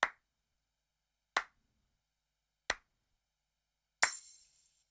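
Recorded hand clap sample for an R&B beat, four sharp, isolated claps evenly spaced about 1.3 seconds apart, the last one joined by a tambourine jingle that rings out briefly, with silence between hits.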